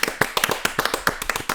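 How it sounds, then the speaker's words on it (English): A few people clap together for about a second and a half, sharp uneven hand claps close by in a loose rhythm with no talking. "we'll all just clap right now"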